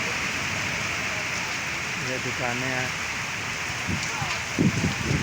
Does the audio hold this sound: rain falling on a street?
yes